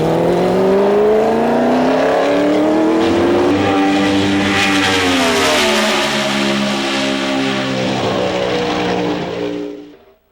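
A 1997 Team Cheever race car at Walt Disney World Speedway howls at speed, a loud sustained engine whine with clear rising and falling harmonics that holds steady, then cuts away abruptly at the end.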